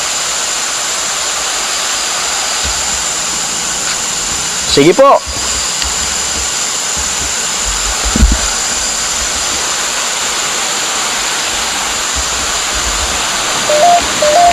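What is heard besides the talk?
rushing river water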